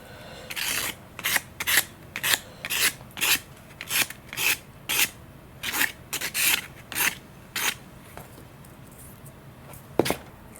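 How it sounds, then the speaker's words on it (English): Carbon tail boom rubbed with 220-grit sandpaper in a run of about fifteen short, rhythmic rasping strokes, close and crisp, ending with a single sharp tap. "220 sandpaper. Just kind of clean it up a little bit, and I might round the edges slightly."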